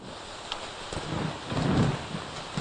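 Rain falls in a Kannada film scene as a soft, steady hiss of drops, faint and continuous, with a few slightly louder rustles and thumps toward the end.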